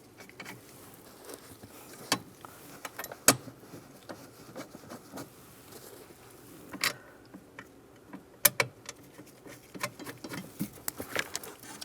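Bolts being threaded and snugged onto an EVAP core bracket on a 2007-2013 Chevrolet Silverado, giving faint, scattered metallic ticks and small ratchety clicks with a few sharper knocks, close but quiet, and no talking.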